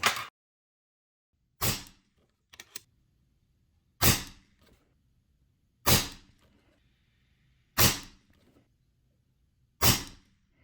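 Avenge-X Tactical Carbine compact PCP air rifle firing FX 15.9 grain pellets, six sharp cracking shots spaced about two seconds apart, each loud and close with a quick decay, a faint hiss between, no talking.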